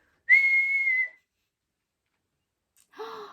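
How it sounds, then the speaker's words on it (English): A single long, steady whistled note rings out loudly, followed by silence and then a short breathy sound. "Whistle again, louder, and again, louder still."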